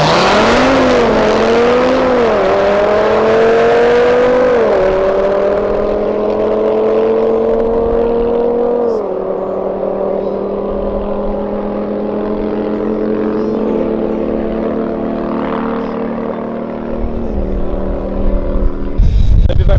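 Stage 3 car with a DSG gearbox accelerating hard in a street race, a loud close engine rising in pitch with several quick gear shifts breaking the climb, then settling into a steady drone.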